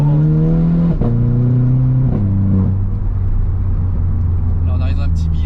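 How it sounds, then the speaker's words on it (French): A Renault Clio 4 RS accelerating hard on a village road, engine note climbing through gear changes with loud droning harmonics, heard from inside the car while someone speaks over it. "Accélère fort."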